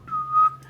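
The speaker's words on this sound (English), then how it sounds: "blow the whistle." A whistle is blown in two short, shrill tones close by, with a steady low hum underneath and no talking.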